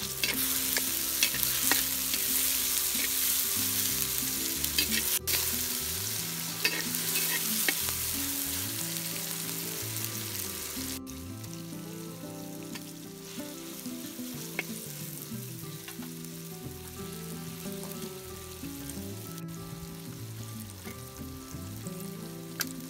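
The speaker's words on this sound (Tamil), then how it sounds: "கருவேப்பிள்ளை, கொத்தமல்லி, நாலு புதினா, கொத்தமல்லியும் புதினாவும் புதினாவும் கலந்துக்கணும்" Curry leaves, coriander and mint fry in a pan of rabbit curry masala in a village kitchen, giving a continuous sizzle with stirring throughout, under background music.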